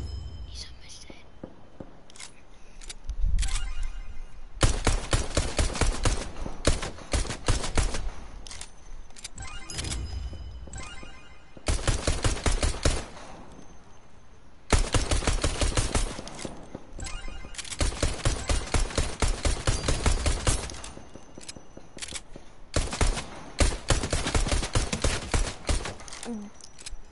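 Rapid bursts of gunfire in the video game Fortnite come in several clusters, loud and dense, alternating with quieter stretches where a voice talks softly.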